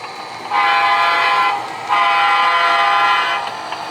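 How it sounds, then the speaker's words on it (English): A small model train rolls past with a steady whirring, metallic hum, swelling twice as it goes by, no voices. "We'll let the train run by."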